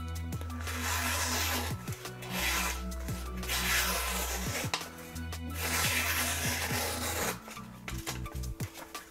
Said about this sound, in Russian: Давайте попробуем порезать листочек.